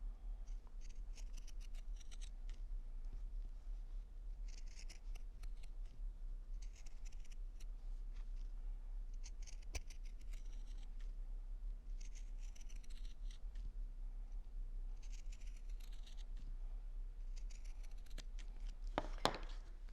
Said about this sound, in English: just trim your seam allowance with a pair of pinking shears